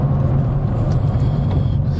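An Aston Martin Vanquish engine heard from inside while driving, a steady low rumbling drone with road noise, continuous and fairly loud.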